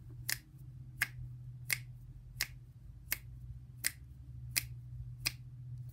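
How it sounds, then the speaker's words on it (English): Eight crisp finger snaps, evenly spaced and gradually speeding up, performed as a body percussion exercise over a steady low hum. "you need to snap eight times"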